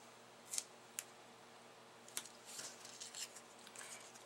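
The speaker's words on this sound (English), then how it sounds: "And we'll cut some tape and put on the back of here." A few sharp, close snips of scissors cutting tape for a handmade card, followed by softer rustling and handling noises in a quiet room.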